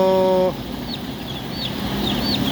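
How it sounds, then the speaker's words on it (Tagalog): Baby chicks peep in short, high chirps scattered across a few seconds, with a steady brief tone at the start and rustling farm background throughout. "Pero maganda po ng sisiw oh"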